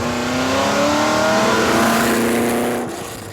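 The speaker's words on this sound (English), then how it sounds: "especially when you press the throttle. See? Lots of noise, lots of speed, 560 horsepower" A Ford GT with a 560 horsepower engine and five-speed dogleg gearbox roars under throttle, its engine note climbing steadily in pitch, loud and continuous before easing off near the end.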